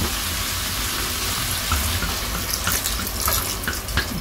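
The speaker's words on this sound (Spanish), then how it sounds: "Vamos a agregarle un poquito de agua." Water pours steadily into a pan of cooking quinoa, a continuous close splashing rush with faint sizzle-like crackle toward the end.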